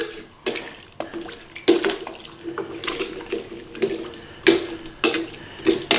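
Room-temperature bottled water is poured over vegetables in a cooking pot in repeated splashing bursts, with clattering and gurgling up close and loud, and no talking.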